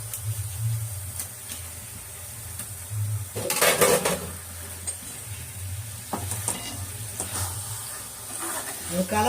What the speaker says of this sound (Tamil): நம்ம கழுவி வச்ச சிக்கன் அதில் போட்டுக்கலாம்